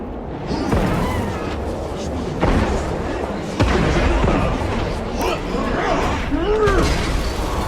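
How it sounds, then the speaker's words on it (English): Fragmentation grenade blasts in Space Marine 2, several heavy booms and crackling debris bursts spread across a loud, dense battle mix with a voice heard. "Fragmentation grenade!"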